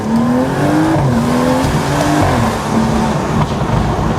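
A BMW 435i with a stage 3 tune accelerates hard, heard from inside as a loud, sustained engine drone rising through gear changes with a steady road roar underneath.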